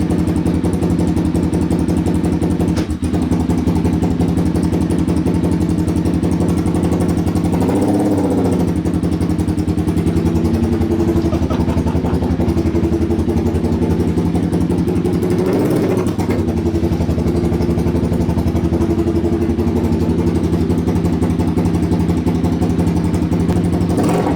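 A mini crotch rocket motorcycle build's engine runs loud and close, idling with a steady droning note and a couple of brief swells in revs, no talk over it.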